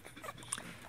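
A nearly two-week-old Airedale Terrier puppy gives a short, faint whimper, quiet and close, with soft rustling around it.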